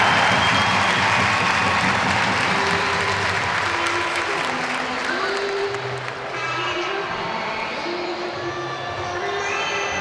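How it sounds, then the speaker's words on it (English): Home crowd at a Sheffield Steelers ice hockey play-off game against Manchester Storm roars and applauds in a big arena, a sustained wash of cheering and clapping with the organ playing notes underneath. "And the home crowd respond."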